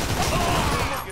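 Dense gunfire in Grand Theft Auto V, a continuous loud burst of rapid shots filling the moment without clear pauses.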